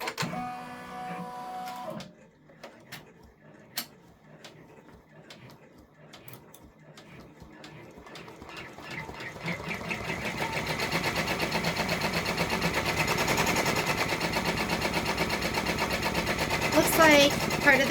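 A Brother 10-needle embroidery machine stitches a white detail on a gingerbread bridge design, its rapid steady needle chatter starting quietly and building to a loud, even mechanical whir that runs on alone.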